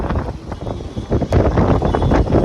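Strong gusting wind buffeting the microphone outdoors ahead of rain, a dense continuous roar that surges louder toward the end with no voices.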